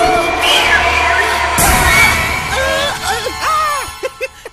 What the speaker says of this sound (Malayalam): കേട്ടില്ലേ നിലവിളി?